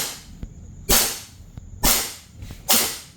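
An airsoft gun fitted with a T238 tracer unit fires three sharp single shots, each a crisp snapping crack with a short decaying tail, spaced about a second apart, with faint clicks in between.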